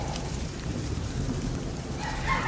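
Steady heavy rain pours during the monsoon season, a dense even hiss of downpour with a faint distant rumble beneath, continuous and close throughout.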